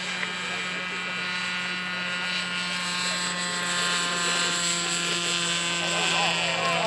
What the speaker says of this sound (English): Rotation occurred. They have liftoff.